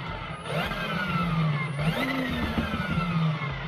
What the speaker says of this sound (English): When I squeeze the power trigger, you'll notice the cable will spin clockwise or anti-clockwise